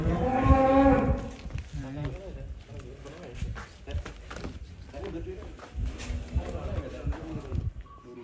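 A very large European-class cow, a rare jumbo bull, moos loudly in a long harmonic call at the start, followed by further lowing and livestock stirring around it.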